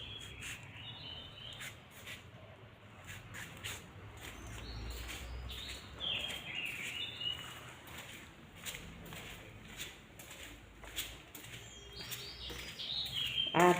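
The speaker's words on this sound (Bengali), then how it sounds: "আর পাখির কিচিরমিচির অনবরত শোনা যাচ্ছে।" Birds chirping in a home garden, faint and distant repeated tweets scattered over quiet outdoor ambience with insect-like buzzing underneath.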